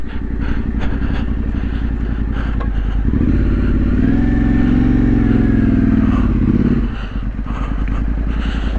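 Trail motorcycle ridden through a wet, slippery green lane in the Yorkshire Dales, engine loud and close with a steady chugging note that rises to a sustained rev in the middle before easing back.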